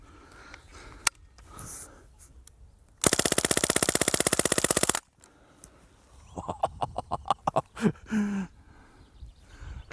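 Umarex Legends MP German air gun firing a two-second full-auto burst, a loud, rapid, even rattle of shots standing out between quieter handling noises.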